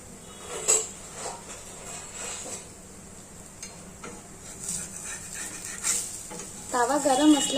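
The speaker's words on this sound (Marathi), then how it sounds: "मी पराठा टाकून घेतला." Methi paratha laid on a hot tawa griddle over a high gas flame gives a soft, close sizzle with a few utensil clinks, and a voice is heard briefly near the end.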